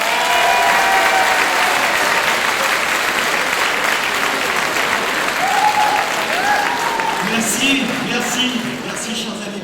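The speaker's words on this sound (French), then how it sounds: "Je vous demande de commencer par applaudir, avant et après son discours bien évidemment, Jean-Luc Pruneau." A crowd at a French Socialist public meeting applauds loudly and steadily in a hall, dense clapping close by that fades slightly toward the end as scattered voices rise underneath.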